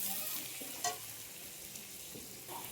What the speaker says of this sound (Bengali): এবার দিয়ে দিচ্ছি আদা জিরে বাটা, আর এখানে নুন লঙ্কা হলুদ দিয়ে আমি এটাকে সুন্দর করে কষিয়ে নিচ্ছি।